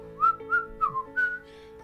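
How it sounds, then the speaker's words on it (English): A person whistles a short, light tune of four or five bright notes, close and clear over a quiet background. "whistling a little tune"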